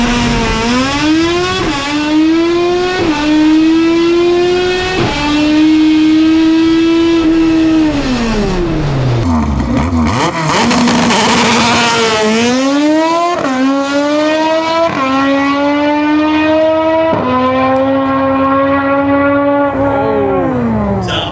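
An all-motor K-series Honda Civic M1 drag car makes a full pass, its engine screaming loud and high through repeated upshifts, each gear climbing then dropping, with a brief roar of a shift change midway and a steady howl to the end.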